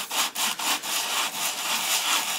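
A resin R2-D2 eye is sanded by hand to a curve, giving close, loud rhythmic scratchy strokes, about eight back-and-forth passes in quick succession.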